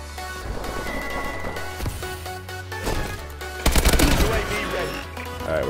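Rapid bursts of AK-12 automatic fire ring out in Call of Duty: Advanced Warfare over game music and background effects, with a louder, dense volley near the end and a voice talking through parts of it.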